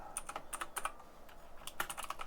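Keystrokes on a computer keyboard typing a Windows search, quick clusters of clicks in short bursts with brief pauses, close and fairly quiet, no talking.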